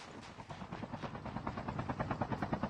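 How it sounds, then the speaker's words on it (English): A helicopter in the mobile shooter Call of Duty: Mobile, a steady rhythmic rotor chop that grows slightly louder and closer, heard on its own. "And the helicopter's gone, so that clears out for AMK"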